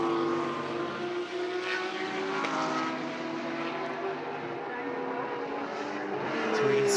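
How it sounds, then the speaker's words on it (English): Race car on the Teretonga circuit in a NextGen NZ Championship race, hard on the throttle with traction control cutting in, giving a continuous, loud, stuttering engine drone with fluctuating pitch and no talk over it. "from this point you can hear the traction control of his car"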